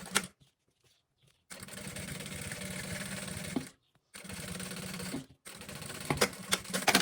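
A sewing machine stitches fabric for a roll-style makeup pouch, running in steady fast bursts of rapid needle clatter separated by short pauses and a few light handling clicks.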